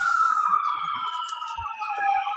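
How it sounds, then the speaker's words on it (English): A police siren wails past in the distance, its rising and falling tone drifting steadily over a quiet room during a yoga class. "That's the sirens going by."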